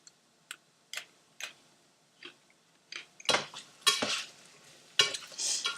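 Potatoes with green peppers being stirred in a frying pan for a Spanish potato tortilla: a few sharp utensil taps and scrapes at first, then louder bursts of sizzling as the food is moved around the pan, close and without talk.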